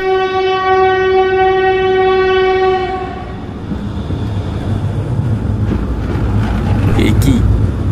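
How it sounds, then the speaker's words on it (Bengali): A train sounds a long, steady horn at night as it approaches a station, then gives way to a loud, close rumble of wheels and carriages that swells toward the end. "এ কি, এত রাতে ট্রেনের আওয়াজ?"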